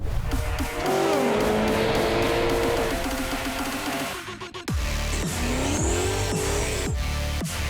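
Race cars at Sydney Motorsport Park during the Australian Muscle Car Masters, engines roaring loudly with rising and falling revs, tyre squeal and a car sweeping past, with no talk over the engine noise.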